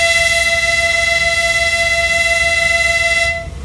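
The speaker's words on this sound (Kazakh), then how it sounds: "Қазір бірінші жолда Саратов-Алматы пойызы, яғни Қазақстан фирмалық пойызы." A Saratov–Almaty branded Kazakh passenger train, heard at a station platform: a loud, steady horn-like tone with sharp harmonics sounds alone and continuously for over three seconds, dropping off abruptly at the end.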